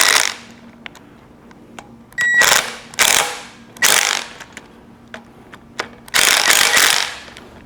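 Ratchet wrench running down nuts during a 1973 VW Super Beetle 1750 cc engine build, several loud rapid clicking bursts separated by short pauses, close up with no talking.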